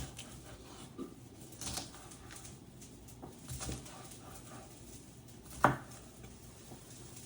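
A knife dicing a pepper on a cutting board, faint irregular taps and chops in a quiet kitchen, with one sharper knock toward the end.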